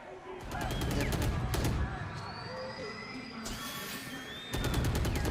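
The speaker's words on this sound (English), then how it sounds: "Push down, the shots coming in" Gunfire in the video game Valorant during a professional esports match, with bursts of rapid shots at the start, near the middle and again at the end, under a caster's excited commentary.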